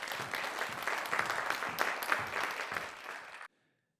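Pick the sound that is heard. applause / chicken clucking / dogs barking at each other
applause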